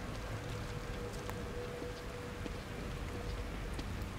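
Steady rain in the horror game The Evil Within, a soft, even hiss of falling drops with a few faint ticks and drips, continuous and moderately quiet with no voices.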